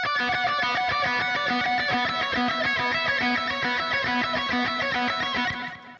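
Electric guitar plays a bridge section through an Archetype Petrucci plugin on its simple solo preset, a dense, sustained distorted tone with steady rhythmic picking throughout.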